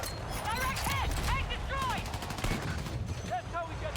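Bursts of automatic gunfire and scattered shots in the video game Battlefield REDSEC, loud and fairly close, mixed with whistling ricochet-like tones and brief voices talking over the action.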